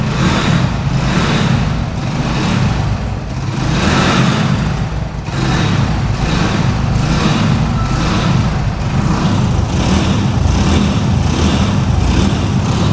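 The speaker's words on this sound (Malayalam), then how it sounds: "നമ്മൾ കിക്ക് ചെയ്ത് വണ്ടി സ്റ്റാർട്ട് ചെയ്യാനായിട്ട് പോകണം. ഒറ്റ കിക്കിൽ തന്നെ വണ്ടി സ്റ്റാർട്ടാവും." A Hero Splendor motorcycle engine, just kick-started, runs on choke with a steady, loud, close idle that barely changes, plus a few slight surges in its drone.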